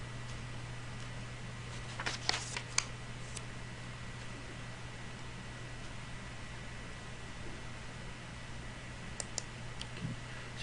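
A couple of quick, faint mouse clicks on the Solve button in Excel Solver, followed by a few more light clicks later, over a steady low hum.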